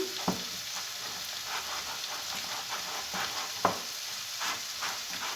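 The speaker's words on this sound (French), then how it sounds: "Les pommes, elles commencent tranquillement à caraméliser" Apple pieces fry and caramelize in a pan for a cake, a soft, even sizzle running throughout with occasional light taps and scrapes from stirring.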